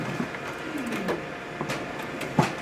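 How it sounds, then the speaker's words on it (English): A Xerox 550 production printer running a print job, with steady mechanical whir and paper-feed noise, soft rhythmic clicks and a sharper thunk near the end, no talking. "Now it's starting to print."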